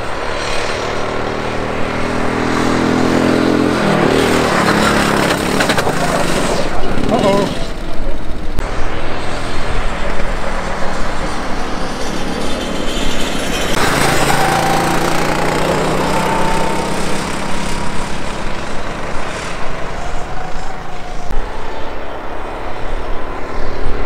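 Rental go-kart engines howl flat out on an outdoor track in Rhodes, Greece, with a continuous buzzing drone rising and falling as karts pass nearby, loud throughout, while a voice talks over it.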